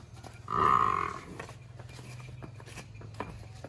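A buffalo heifer lets out a single loud, low moo lasting about half a second, close by, followed by quieter shuffling and faint background noise.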